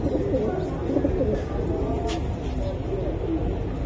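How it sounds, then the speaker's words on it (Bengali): Giribaz pigeons coo in soft, repeated low calls that run steadily throughout, close by, with faint background voices mixed in. "বন্ধুরা এটাও আর একটা টপ কোয়ালিটির কবুতর"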